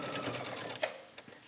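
A sewing machine stitches along the edge of an A-line skirt's waistband, a fast, steady, close whirring that stops abruptly, followed by a couple of small clicks.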